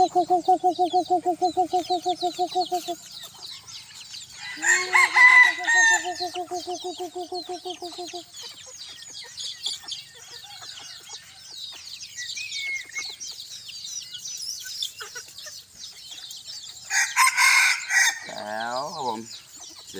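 Several bantam roosters crowing nearby on a hot evening, long quavering crows one after another, overlapping with clucks and chirps from other birds in the background.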